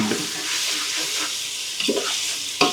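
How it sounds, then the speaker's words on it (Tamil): Tomatoes frying in a little oil, with coarse salt added, stirred in a pan for a simple bachelor-style chicken biryani: a steady close sizzle runs throughout, with a few scraping stirs near the end. "தக்காளி நல்லா கொஞ்சம் எண்ணெயில் வதங்க நல்லாயிருக்கும்"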